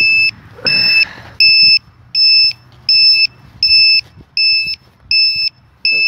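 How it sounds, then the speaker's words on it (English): Loud electronic beeper on an Eachine Falcon 180 drone, sounding about nine evenly spaced, piercing beeps in a steady on-off rhythm, close and alone apart from faint background rustle. "one loud beeper."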